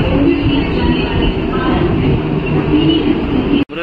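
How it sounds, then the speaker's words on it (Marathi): A 12-car local train bound for Dombivli rolls loudly and steadily alongside a platform, a continuous rumble of wheels and carriages with faint squeals, ending in a brief sharp cutoff. "आलेली लोकल 2 वाजून 37 मिनिटांची 12 डब्यांची डोंबिवलीला जाणारी ही लोकल आहे"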